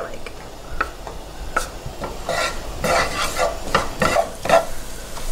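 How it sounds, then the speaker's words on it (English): Garlic sizzles in hot butter in a pan while being stirred for clam linguine, giving a soft, steady frying hiss broken by the scrape and clatter of a utensil against the pan. "we're going to stir everything up so that the garlic can cook with the butter"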